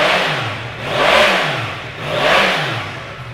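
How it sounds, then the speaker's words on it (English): A 2019 Yamaha MT-10 motorcycle engine starts and revs up twice in long rising-and-falling swells, loud and close, settling back to a rumbling idle between the revs. "I'll give that start up for you now"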